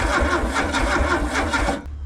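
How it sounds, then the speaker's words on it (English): An old scrapyard VW Beetle engine cranks on its starter motor with a rhythmic, churning whirr that never catches, loud and close, then cuts off abruptly. "So let's see if we can get this engine to run."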